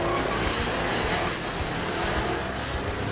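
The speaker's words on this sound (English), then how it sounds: "Let's do a burnout this time." A muscle truck's engine roars continuously through a tire burnout, loud and close, with a dense, steady rumble and tire noise and no voices.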